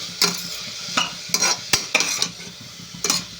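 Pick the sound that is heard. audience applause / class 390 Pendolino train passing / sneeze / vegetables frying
vegetables frying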